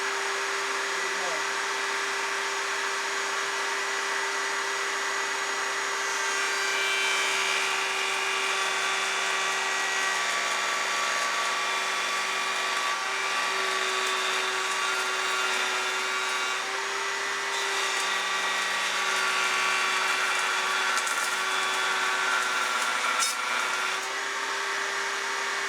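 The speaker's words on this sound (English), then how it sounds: "Now you can do this by hand with a handheld router" A handheld router cuts wood for bow-making jigs, its motor running as a steady high-pitched whine with a constant tone, close and sustained throughout, rising slightly in grit as the bit bites into the piece.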